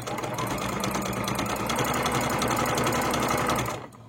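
A sewing machine stitches a seam on fine fabric for a scarf, running in one loud, rapid, continuous mechanical chatter close up before stopping abruptly near the end.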